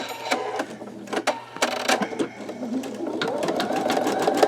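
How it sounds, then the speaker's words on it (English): A machine embroidery rig stitching a skull design on fabric runs in a steady, rapid mechanical chatter with clacking bursts and a constant low hum, close and fairly loud with no talk. "I'm going to go ahead and start my stitching."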